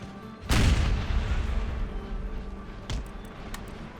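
Units open fire in Empire Total War 2, starting with a loud, deep booming volley that rumbles and decays for a couple of seconds. A few fainter, sharper shots follow at a distance.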